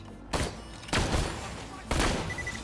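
An old sniper rifle fires in Borderlands 2, giving three loud, heavy shots spaced about a second apart. Each shot is a sharp crack with a booming tail, over constant game background noise.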